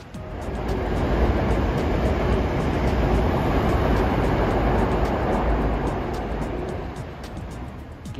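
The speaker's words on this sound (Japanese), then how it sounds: "ちょっと電車でも撮影しようと思います。" A train rumbles past nearby along the upper Sumiyoshi River in Kobe, Japan, a steady broadband roar that swells quickly, holds for several seconds, then begins to fade, with no voices.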